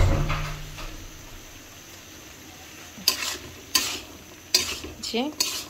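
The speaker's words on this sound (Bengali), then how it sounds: "এবার ধনেপাতাটা অ্যাড করে আমরা একটু নেড়ে নামিয়ে নেব।" Chola boot curry with coriander leaves stirred in a pan, a soft sizzle punctuated by several sharp spatula scrapes and clanks against the metal, no voices.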